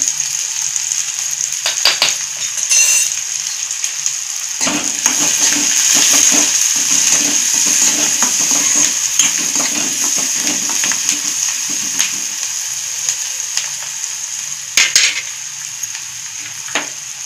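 Okra (bhindi) frying in a pan with a pinch of turmeric, a loud continuous sizzle broken by scattered clicks and scrapes of stirring, with a couple of sharper utensil knocks near the start and end.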